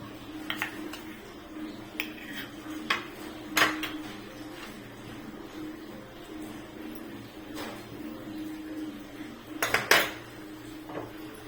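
Semolina dry-roasted in a pan for mango sheera, stirred with a metal spoon that scrapes and clinks against the pan in scattered sharp knocks over a low steady background, with no talking.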